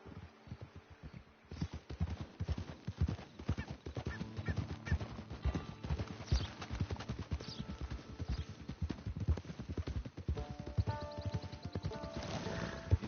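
Hoofbeats of a ridden horse in Red Dead Redemption Online pound in a quick, continuous gallop rhythm, close and steady, with game ambience layered underneath and no talking.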